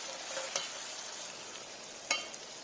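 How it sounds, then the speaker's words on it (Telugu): Tomatoes fry in a pan for a Godavari-style fish curry, a soft steady sizzle with two distinct scraping stirs of a spoon, one near the start and a sharper one about two seconds in. "టొమాటో ఇలా మొత్తం స్మాష్ అయ్యే వరకు పెట్టి ఫ్రై చేస్తూ ఉండాలి."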